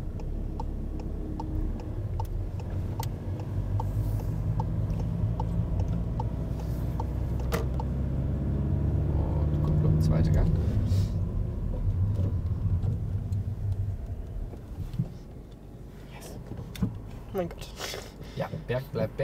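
A car drives on a road during a driving lesson, its low engine and road rumble steady throughout, with a faint indicator ticking and people talking over it.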